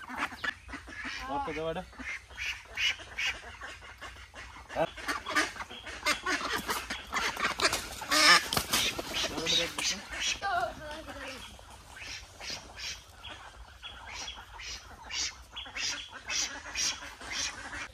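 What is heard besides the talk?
domestic ducks being caught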